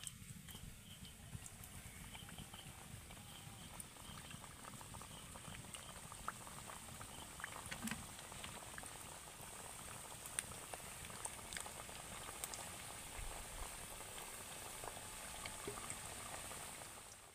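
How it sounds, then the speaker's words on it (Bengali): Semolina biscuits deep fry in hot oil with a continuous soft bubbling and crackling sizzle, steady and fairly faint throughout. "বাকি বিস্কুটগুলোকেও আমি একইভাবে ভেজে নেব।"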